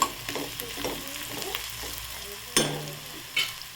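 Sliced onion fries in a pan with turmeric and is stirred, giving a soft steady sizzle broken by a few sharp scrapes and clacks of the spoon against the pan.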